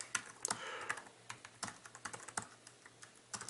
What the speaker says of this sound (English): I'll just type that.